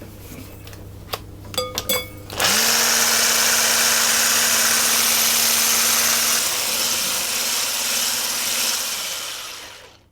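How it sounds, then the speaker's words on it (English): An electric whisk whips cream to soft peaks for banoffee pie. A few metallic clinks come first, then a loud, steady motor whir runs for about seven seconds before winding down. "I'm going to whisk that until it achieves soft peaks"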